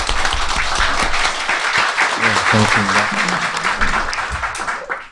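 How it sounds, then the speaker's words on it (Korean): Audience applause welcoming the head of Peace Network onto a Korean talk show stage, dense clapping throughout with a voice greeting briefly over it midway. "박수로 환영해 주시기 바랍니다"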